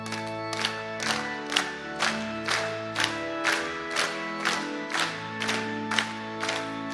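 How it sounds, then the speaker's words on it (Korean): A church congregation at a Korean Wednesday evening service claps in steady time along to a sung hymn. Regular sharp claps land about twice per second over sustained organ and voices. "우리 힘차게 박수치고 찬양함으로"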